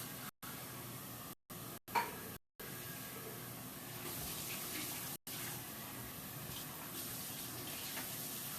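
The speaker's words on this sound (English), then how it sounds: "So, Laura Craner, play some music while I rinse these off so we can start our California soup." A kitchen tap runs steadily while produce is rinsed under it, a faint continuous hiss broken by a few short silent gaps.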